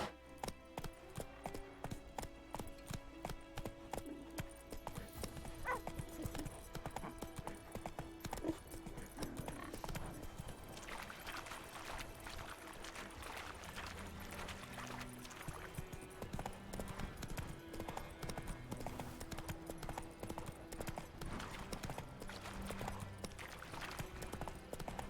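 A horse gallops in the Witcher 3 video game, with rhythmic clip-clop hoofbeats running steadily for the whole stretch, an occasional whinny, and music playing underneath.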